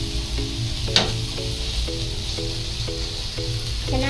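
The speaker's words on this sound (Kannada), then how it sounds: "ಇನ್ನೊಂದು 5 ನಿಮಿಷ ಫ್ರೈ ಆಗಿದ್ದು." Semolina-coated fish fries in a pan with a steady, close sizzle. Soft regular tapping and stirring knocks come through under it.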